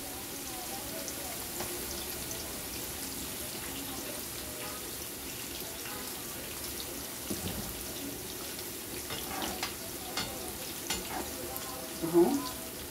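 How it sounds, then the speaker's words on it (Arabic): Eggplant frying in oil in a pan, a faint continuous sizzle with occasional light clinks and stirring sounds, under a quiet background. "بعد ما البتنجان بتاعنا يطلع اهو اهو هيتحمر،"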